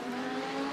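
A BMW race car engine in Le Mans Ultimate holds a steady, sustained drone with a strong tonal whine, loud and continuous without any talk over it.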